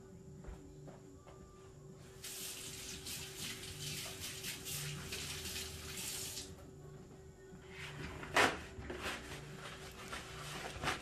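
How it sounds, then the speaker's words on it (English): Tap water runs briefly as hands are rinsed in a kitchen, a soft splashing wash that rises from a faint background and ends with a few quick knocks and splashes. "Let me rinse my hands."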